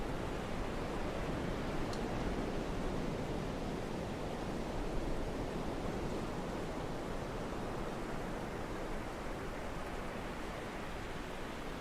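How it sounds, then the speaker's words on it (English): A steady, dense roar of hurricane-like wind stands in for the engine of a car in the BeamNG driving game, a constant broadband rush at low level with no voices over it. "He's put the hurricane sound on the engine because there's zero engine sound."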